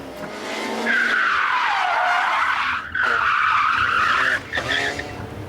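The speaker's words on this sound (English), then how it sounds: "Remember, turn, clutch, handbrake." A car's tyres squeal loudly as it slides through a handbrake turn in second gear on a test track, a long rising and falling screech with a brief break, then a second squeal; an instructor talks during it.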